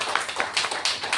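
A church congregation claps hands in quick, uneven bursts at a worship gathering, moderately close and fairly soft.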